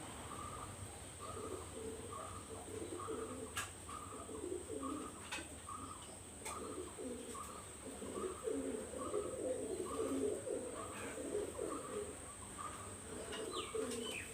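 Two male pigeons fight and coo, a repeated rhythmic cooing with occasional sharp wing flaps and scuffles, moderately close and fairly faint.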